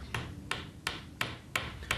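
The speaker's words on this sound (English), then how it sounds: "Whilst the clamp is in place, hammer in the pre-glued dowels." Pre-glued wooden dowels are hammered into a classic workbench joint held in a clamp: six sharp, evenly spaced blows about a third of a second apart, close and clear, with no talk.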